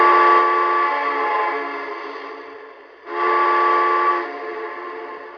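A Lionel TMCC K4 model steam locomotive sounds its whistle in two loud, steady, chord-like blasts, a long one that fades, then a short break and a second, shorter blast.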